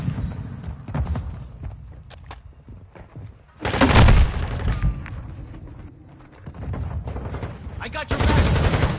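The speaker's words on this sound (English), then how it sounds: "I'm taking effective fire!" Gunfire in a first-person shooter, loud bursts of automatic rifle fire and explosions in several rounds, with a voice calling out between volleys.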